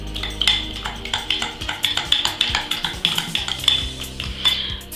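Fork working egg into cookie dough in a bowl, rapid rhythmic clicking and scraping of metal against the dish, steady repeated strokes close by.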